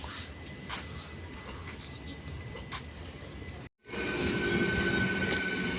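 The 16342 Thiruvananthapuram–Guruvayur Intercity Express with LHB coaches rolls past in a continuous rumble with squealing wheels. After a momentary dropout the sound returns louder and fuller.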